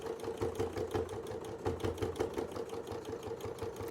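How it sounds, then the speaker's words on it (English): A sewing machine stitching a quilt with circle wreath motifs, a rapid mechanical hum and clatter in short bursts with brief pauses, close and moderately quiet, no talking. "So again, sew the bottom in first."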